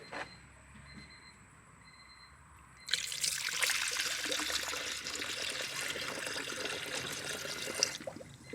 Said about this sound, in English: I'll start putting coolant in it